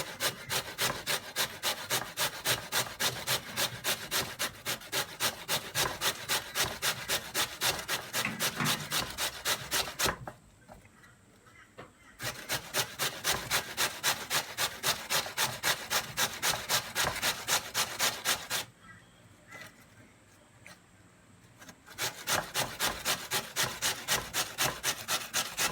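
Raw potatoes grated by hand for Polish potato pancakes, with steady rapid rasping strokes against the grater that run in long even bursts and stop twice for a pause before the scraping picks up again.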